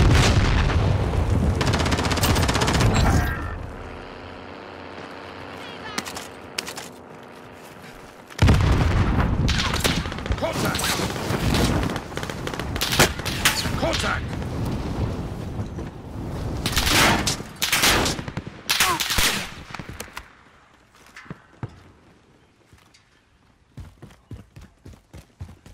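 Gunfire in the video game Warzone: bursts of loud shots and booming blasts fire repeatedly through most of the stretch, with rapid volleys overlapping one another before fading to scattered, sparser cracks near the end.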